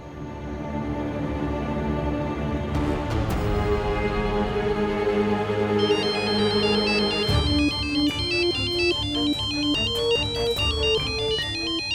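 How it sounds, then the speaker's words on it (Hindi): A phone ringtone plays loudly and steadily, a bright electronic melody repeating over sustained tones with no one speaking. "ऊपर से ये विशेष सर का फोन, वो भी रात में"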